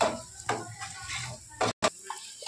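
Onion, garlic and green chilli being stirred and fried in a pan on a gas stove for quick Maggi masala, giving a steady close sizzle broken by scraping stirs and a brief pause.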